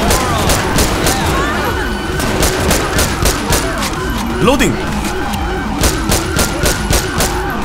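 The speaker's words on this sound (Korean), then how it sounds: "오 총소리 바뀌었어." Rapid bursts of gunfire crack repeatedly in the GTA V video game, played with the LSPDFR police mod during a car chase, mixed with police sirens and engine noise while a player talks over the action.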